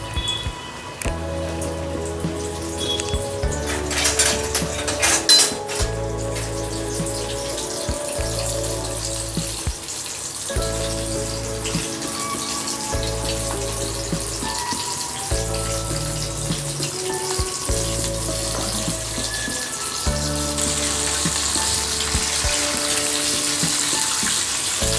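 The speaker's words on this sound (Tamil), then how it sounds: "அது பார்த்திங்களா, நல்லா போட்ட உடனே நல்லா பொரியணும்." Chicken pieces sizzle and hiss continuously in hot oil for homemade KFC-style fried chicken, a loud, steady crackling fry close by with no talk.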